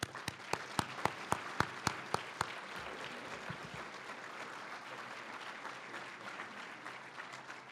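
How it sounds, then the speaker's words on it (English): Audience applause for Senator Brian Williams at the podium of a Missouri Black History Month event: a run of sharp, distinct claps gives way to dense, steady clapping from a sizeable crowd that carries on to the end. "So we can clap it up one more time for Director Zellers."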